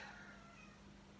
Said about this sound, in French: Chat qui miaule, je suis sûre que vous l'entendez.